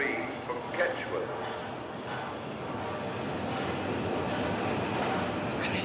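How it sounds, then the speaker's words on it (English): A steam-era train rolls into a station platform in a 1945 film, a steady rumbling rush of carriages and wheels that builds and holds, with a station announcement spoken over it at the start. "The train now arriving at platform 3 is the 5:43 from Ketchworth."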